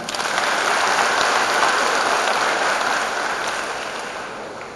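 A large crowd claps at a university graduation ceremony in Sumatra as cum laude psychology graduates stand, a dense, loud roar of applause that swells quickly and then slowly tapers.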